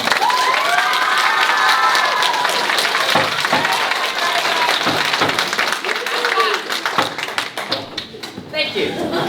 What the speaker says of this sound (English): anyone who believes the defendant is innocent, I'd like you to applaud now.